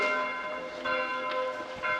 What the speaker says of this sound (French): avec les cloches qui sonnent